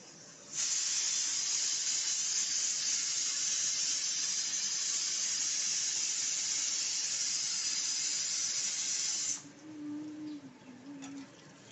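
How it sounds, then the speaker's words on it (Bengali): A pressure cooker boiling potatoes and bitter gourd lets out a loud, steady steam whistle-hiss for about nine seconds, then cuts off, leaving faint kitchen sounds. "আমি 3টার মতন সিটি দিয়ে ভালো করে আলুটাকে আর ভাত করলাটাকে সিদ্ধ করে নিচ্ছি"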